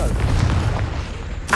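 A Confringo fire spell explodes in Hogwarts Legacy with a deep, rumbling boom that carries through the whole moment, and a sharper burst flares near the end.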